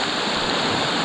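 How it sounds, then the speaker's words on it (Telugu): Water pours down Penchalakona waterfall in Andhra Pradesh, a dense, steady roar filling the whole moment without a break. "అందుకే ఇది రియల్ బాహుబలి వాటర్ ఫాల్ అని చెప్పాలి."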